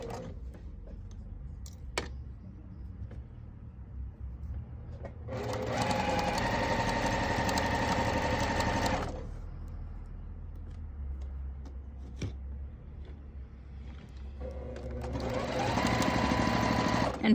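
A sewing machine stitches fabric from pin to pin in two bursts, a steady rapid mechanical whir of about four seconds, a pause with faint handling clicks, then a second run that starts near the end.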